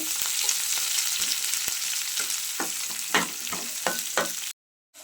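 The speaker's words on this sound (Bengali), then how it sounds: "পেঁয়াজটাও একটু ভাজা ভাজা করে নেব।" Chopped onion sizzles in hot oil with a continuous, close frying hiss, punctuated by several sharp spatula knocks and scrapes as it is stirred, before the sound cuts off abruptly.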